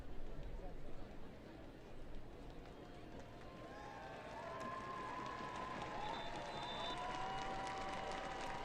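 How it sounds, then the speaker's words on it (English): A home crowd at a San Diego women's professional football match applauds a player, a broad, steady roar of clapping and crowd noise with a few whistles, under faint commentary. "Home side applauding Kristen McNabb."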